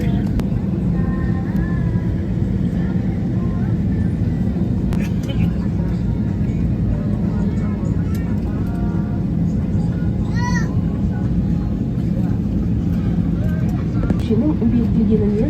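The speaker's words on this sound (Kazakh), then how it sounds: "А мы уже сидим в самолете" Steady engine hum fills a passenger airplane cabin, with murmured voices and occasional small clicks and bumps over the constant drone.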